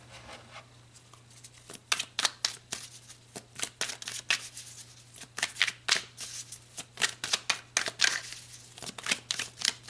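Tarot cards are shuffled by hand in repeated quick riffling bursts, close and crisp, with brief pauses between rounds over a faint steady hum.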